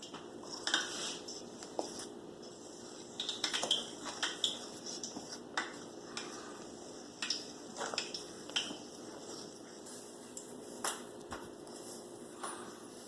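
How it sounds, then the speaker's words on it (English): Liquid ingredients being mixed into a Hanukkah dough mixture in a bowl, heard as quiet, irregular clinks and scrapes of utensil against the bowl, with soft tapping bursts spread across the mix. "now we're going to put everything, all our liquid ingredients, into this mixture here. And now we're going to mix."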